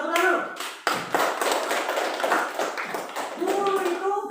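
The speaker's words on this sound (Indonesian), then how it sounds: "Tepuk tangan." A group claps in a classroom, a quick burst of many overlapping hand claps mixed in with people talking.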